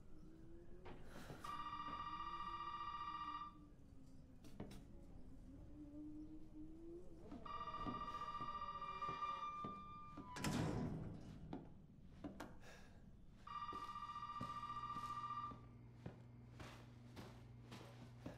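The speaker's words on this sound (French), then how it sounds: "Le téléphone." A telephone in the video game Resident Evil 7 on Xbox One rings three times, each ring a two-second electronic trill separated by pauses, fairly quiet amid footsteps, thuds and faint ambient noise.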